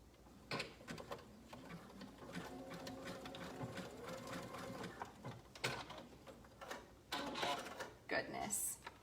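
A sewing machine stitches slippery swimsuit fabric in several close, mechanical whirring bursts separated by pauses, with handling clicks and a voice talking between runs.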